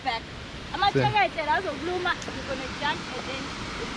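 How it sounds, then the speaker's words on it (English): A waterfall near the caves at Mzinyathi outside Durban gives a steady, rushing broadband roar that runs through the whole clip, with voices and a few exclamations heard over it. "But here's the waterfall"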